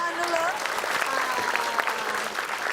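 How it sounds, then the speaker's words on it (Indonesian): Steady applause from a group, continuous clapping with a voice speaking over it. "Kita kasih tepuk tangan dulu."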